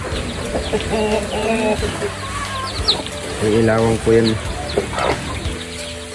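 Chickens cluck and call close by in a muddy farmyard pen, several birds overlapping in short bursts while someone speaks over them.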